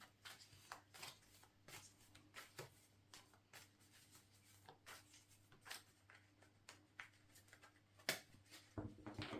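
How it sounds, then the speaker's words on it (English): Cards are shuffled softly and close by, in quick repeated riffles and light taps, quiet with no talking. "Do I want another card? It seems like I do, because I'm shuffling again."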